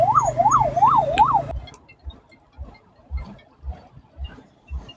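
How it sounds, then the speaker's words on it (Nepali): A loud ambulance siren passes close on a road in Nepal, wailing in a rising and falling pattern before cutting off abruptly. Low, rhythmic traffic rumbles follow. "हाम्रो फर्स्ट प्रायोरिटी एम्बुलेन्स जान दिने अब एम्बुलेन्स यताबाट"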